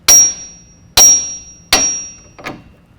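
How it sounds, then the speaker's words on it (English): A hammer strikes the steering knuckle of a 2017 Ford F-150 4WD three times in sharp metallic clangs with ringing decay, followed by a fainter fourth tap, close and loud. "we're just going to take a hammer or a sledge and just You're going to try to hit just the knuckle"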